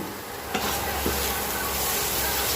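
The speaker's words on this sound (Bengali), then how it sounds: "এবার গুঁড়ো মশলাগুলো এর সাথে মিশিয়ে নিয়ে মশলাটাকে আরও 2 মিনিট ধরে আমি কষিয়ে নেব" Spice paste with ground masala frying in oil in a pan for a stuffed pointed gourd dish, a dense continuous close sizzle broken by a couple of sharp stirring scrapes, no talking.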